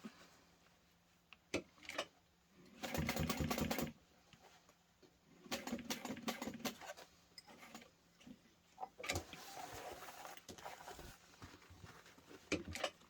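A sewing machine runs in several bursts of rapid mechanical stitching along a backpack handle strap, with quiet pauses and faint clicks and handling between runs.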